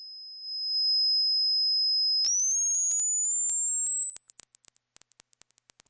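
A pure sine test tone holds steady, then jumps higher and climbs slowly and continuously in pitch, loud and alone with faint clicks.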